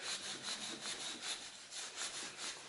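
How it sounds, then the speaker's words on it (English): Wire wool rubbed around the end of a copper pipe before soldering a fitting, a quiet, rhythmic scratchy rasping of repeated short strokes, close and alone. "Grab your wire wool, just go around the pipe a few times,"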